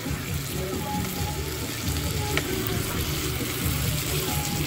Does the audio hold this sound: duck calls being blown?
no